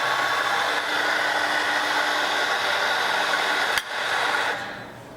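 Coffee grinder grinding fresh espresso beans into an 18-gram dose: a loud, steady close-up whine and grinding rush that holds for several seconds, then a click and the motor winding down.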